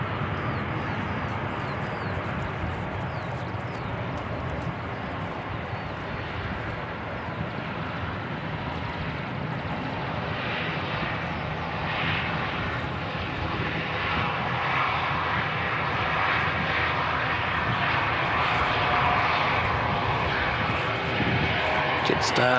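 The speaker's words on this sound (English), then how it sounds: "Jetstar flight 231 from Auckland." A Jetstar airliner from Auckland arrives at Christchurch Airport in wet conditions, a continuous broad jet engine roar with wind noise heard from a distance, while a voice talks over it.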